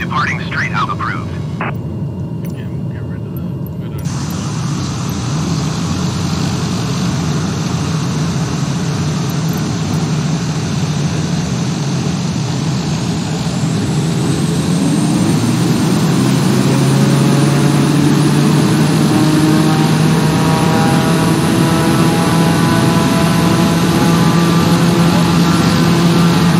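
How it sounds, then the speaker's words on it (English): A propeller airplane in Microsoft Flight Simulator 2020 drones steadily and then swells in pitch and loudness as it powers up for takeoff, its engine tone rising through the second half with a voice talking over it early on. "cleared for takeoff runway 33 left, departing straight out approved"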